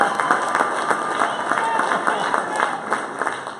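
An audience at a live event with costumed kids claps in a dense, steady round of applause that holds throughout, with voices mixed into the crowd noise.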